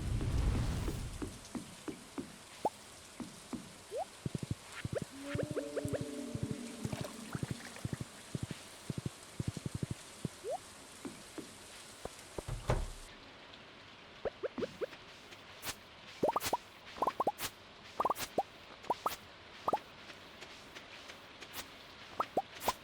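Rain summoned by a rain totem in a farming video game: steady patter of raindrops with scattered plops and drips throughout, and a faint rumble near the start.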